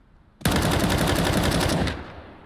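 AK rifle gunfire in CS:GO, a loud close burst of rapid automatic shots lasting about a second and a half before the sound tails off.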